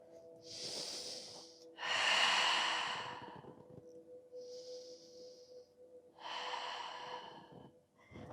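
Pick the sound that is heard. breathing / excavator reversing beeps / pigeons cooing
breathing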